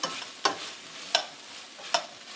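Salted bell peppers sauté in a pan with a low steady sizzle, broken by three evenly spaced sharp scraping stirs, close by and without talk.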